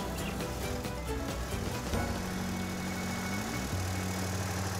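A tractor engine runs steadily at a farm in Chaumont-Gistoux, Brabant Wallon, its low, continuous hum holding close and even, with a pitch shift near the end as the throttle changes.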